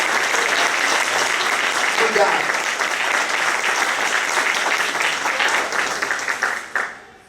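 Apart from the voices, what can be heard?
audience applause in church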